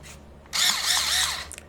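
A power tool, likely a drill, whirs up suddenly and runs at a steady, loud, high-pitched whine for about a second before cutting off.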